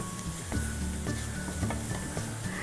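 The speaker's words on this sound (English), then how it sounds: "Give it a good stir." Carrots and onions are stirred in a hot pan, giving a steady sizzle punctuated by repeated scraping, clattering strokes of the spoon, close and without voices.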